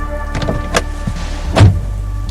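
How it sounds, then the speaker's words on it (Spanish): A car door thumps shut, with a heavy low slam near the end after some lighter clicks and handling noises, close and loud over a steady engine-like rumble. "El policía había salido del auto, dando un fuerte portazo"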